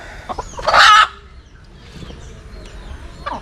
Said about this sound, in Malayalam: ഇതൊക്കെ നമുക്ക് മീഡിയം ടൈപ്പിൽ വരുന്ന നമ്മുടെ ബ്ലാക്ക് വൈറ്റ് കോഴികളാണ്